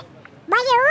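After a brief quiet moment, a voice lets out a single short, rising meow, imitating a cat up close.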